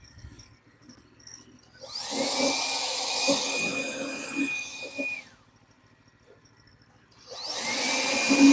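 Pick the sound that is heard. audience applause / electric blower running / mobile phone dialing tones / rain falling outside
electric blower running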